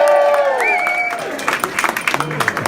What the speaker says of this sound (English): Round of applause for the backup.